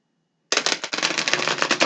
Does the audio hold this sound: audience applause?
no